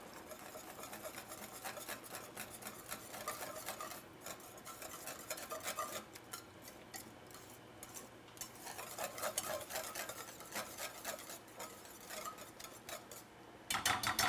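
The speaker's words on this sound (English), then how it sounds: "So stir until all of your lumps are gone." A spoon works through a lumpy mixture in a pan, giving a steady scraping and clinking of utensil against metal that continues throughout, with a louder burst of stirring at the very end.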